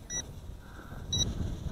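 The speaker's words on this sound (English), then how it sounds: "with that battery beeping like that" Two short high-pitched low-battery warning beeps from a Juncheng 3015-2 drone transmitter, spaced about a second apart, faint against low background rumble.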